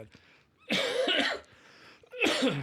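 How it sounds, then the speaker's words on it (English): Two bursts of harsh, raspy coughing close to the microphone, separated by a brief pause. "man, this cough is not going to go away"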